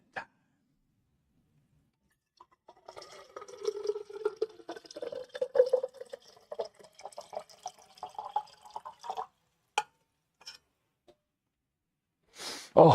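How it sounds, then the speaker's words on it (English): Water runs into a container in a home kitchen while muffins bake, with a fluctuating, splashy trickle lasting several seconds and a few isolated clicks and knocks around it. "I'm gonna go fill up some water."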